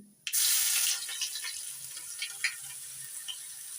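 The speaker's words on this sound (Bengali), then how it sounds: "রসুনটা একটু লালচে করে ভেজে নেব।" Crushed garlic drops into hot oil with nigella seeds in a pan and sets off a sudden loud hiss that fades over a second into a softer, steady crackling sizzle.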